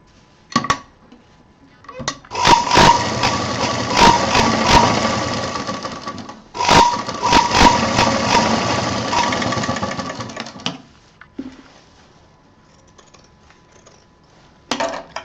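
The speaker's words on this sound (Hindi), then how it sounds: "दोनों उल्टे साइड मिला करके, जिप का और कपड़े का मिला करके इसको इस तरह से सिलना है" A sewing machine stitches a zip to fabric for a handbag in two long bursts of rapid mechanical chatter, separated by brief pauses with small clicks and handling noises, close and clear.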